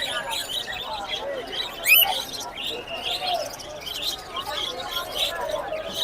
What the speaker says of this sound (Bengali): মাসাল্লাহ খুব সুন্দর পাখিগুলো